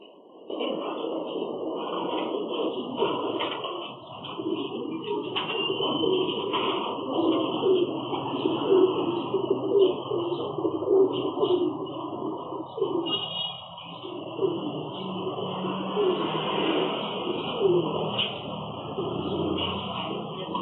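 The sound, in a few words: bird calling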